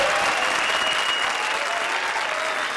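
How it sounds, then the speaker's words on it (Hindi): A studio audience at the comedy show Comedy Circus breaks into loud, sustained applause, a dense, steady wash of many hands clapping with no voices on top. "अरे तालियां, तालियां"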